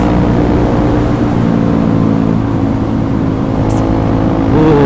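Steady engine drone of a new 2021 Honda CRF trail motorcycle being ridden over rough, potholed road, loud and continuous with a slight rise in revs near the end.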